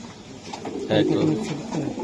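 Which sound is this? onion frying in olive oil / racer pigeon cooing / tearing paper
racer pigeon cooing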